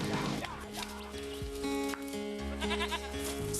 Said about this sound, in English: Feral goats throughout the Australian all need to be rounded up off the hillsides